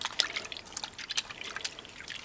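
Faint, scattered drips and small splashes of cold water fall irregularly as doll's clothes soak in a basin, close and quiet with no talking.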